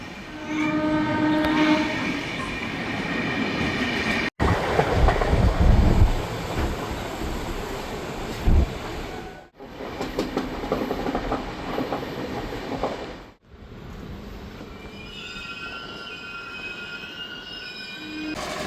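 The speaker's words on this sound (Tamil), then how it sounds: "சொன்ன மாதிரி 2 நிமிஷம் நின்று வண்டி எடுத்துட்டாங்க" The Tambaram–Tirunelveli summer special express, train 06165, pulling away after a two-minute halt at Vriddhachalam: loud rumbling wheels and clattering carriages, squealing wheels and horn blasts, heard close by and building as the train gathers speed.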